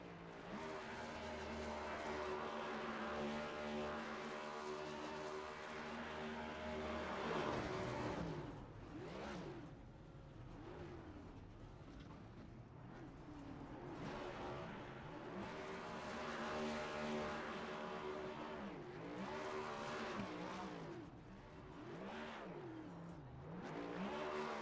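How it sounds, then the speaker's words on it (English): Race cars at Kentucky in the iRacing sim rev hard through burnouts, with engine pitch rising and falling in repeated sweeps and a hint of tire squeal, loud and continuous throughout. "We'll see what happened to Luke Peters after he does his burnouts here."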